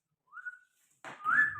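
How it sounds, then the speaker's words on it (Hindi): A person whistles, first a short rising note and then a longer, brighter whistled phrase after a brief pause, close and fairly soft in a quiet room. "बहुत सीटी बजा रहा है।"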